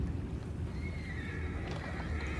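Horses neigh and whinny in Red Dead Redemption 2, heard from below amid a steady rumble of wind and water during a scene aboard a boat, with faint hoof clatter mixed in over roughly two and a half seconds.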